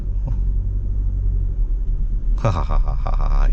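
A Maruti Suzuki Victoris with a manual gearbox pulls away from a stop in second gear. A low engine rumble holds steady until the revs rise sharply near the end, loud and close.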